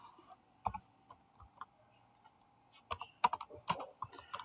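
A single line of code typed on a computer keyboard, a few scattered key taps followed by a quicker burst of clicks, close and clear with no talking.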